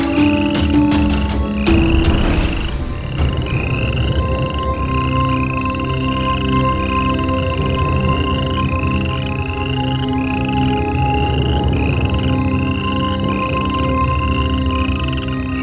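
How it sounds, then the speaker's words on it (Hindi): A frog stuck in a pit croaks steadily in a loud, close, continuous rhythmic chorus of repeated calls. Sharp knocking noises open the passage before the croaking settles into an even pattern. "अरे मेंढक गड्ढे में फंस गया, मैं इसे निकाल देता हूँ।"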